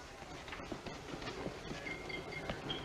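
Railway carriage rolling along the track in a steady, fairly faint rumble with light rhythmic clacks, on a horror-film express train.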